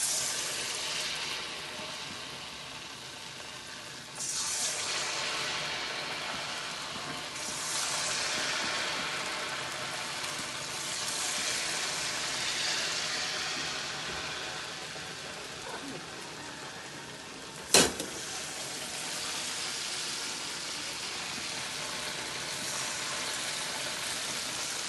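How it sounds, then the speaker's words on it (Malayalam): Small-cut banana slices fry in oil for morning tea, giving a soft, rain-like crackling hiss that swells and fades in waves, with one sharp click near the end. "അങ്ങനെ ഞാൻ കായ് പൊരിക്കുന്നുണ്ട് രാവിലെ ചായക്ക്."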